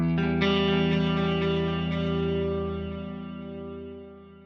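An Axe-Fx III quad tape delay with its motor speed turned down sustains a held, slightly distorted guitar tone whose repeats smear together and slowly fade, with no playing over them.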